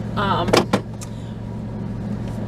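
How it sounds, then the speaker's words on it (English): Inside a car: a steady low cabin hum with a brief whirring sweep and a couple of sharp clunks near the start, then even interior rumble. "We are in the car."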